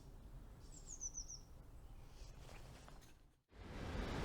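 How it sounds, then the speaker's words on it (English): A robin sings outdoors on a cold February walk near a river mill pool, a short bright warbling phrase heard faintly at a distance over steady wind and outdoor rumble, followed by louder close handling noise. "And a robin there as well."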